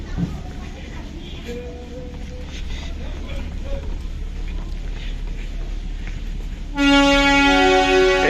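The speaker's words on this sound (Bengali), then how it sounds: "আমাদের টয় ট্রেনের হুইসেল সিটি দিচ্ছে।" A Darjeeling toy train blows its whistle: a loud, sustained, piercing tone bursts in near the end and drowns out the steady rumble and background bustle of the station before it.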